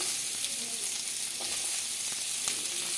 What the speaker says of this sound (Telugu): వేసుకొని బాగా గోల్డెన్ కలర్ వచ్చే వరకు ఫ్రై చేసుకోవాలండి